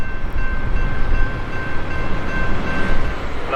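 Amtrak Floridian passenger train (train 41) rolling by on a CSX line in Florida, a steady loud rumble and wheel roar that stays close and constant throughout, with a faint high tone running across it.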